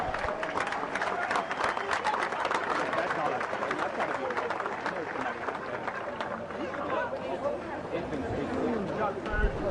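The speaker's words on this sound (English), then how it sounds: "Let's give those guys a round of applause." Crowd applause rings out for swimmers after a men's 200 m medley final at a national swimming championship, dense and sustained across the whole stretch, mixed with cheering and crowd chatter in a large pool hall.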